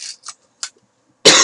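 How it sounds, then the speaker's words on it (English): A person gives a few short, harsh coughs close to the microphone, sharp bursts separated by brief silences, ending with a louder, heavier cough. "My cough is horrible."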